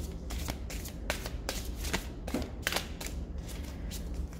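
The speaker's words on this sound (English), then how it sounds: "let's clear the cards once again and see Trevor's feelings." Tarot cards being shuffled by hand in a quiet room, a rapid series of soft riffling snaps and flicks repeating in an even rhythm, close and fairly faint.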